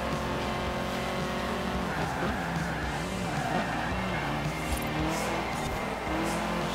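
A tuned Audi races in the video game Forza Horizon 4, its engine roaring in a steady, loud drone throughout, with tire and road noise mixed in.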